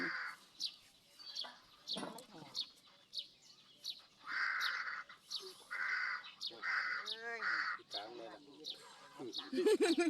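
Crows caw in a loose series of harsh, repeated calls, with other bird chirps and some talking mixed in throughout.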